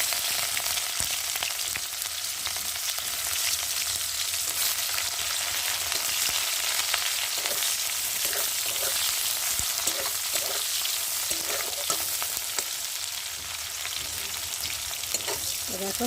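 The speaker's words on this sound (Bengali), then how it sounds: "আর এখন আমি কেটে রাখা পেঁয়াজগুলোকে দিয়ে ভালো করে ভেজে নেব।" Chopped onions frying in hot oil with cumin and bay leaf, a loud, steady close sizzle with occasional stirring scrapes throughout.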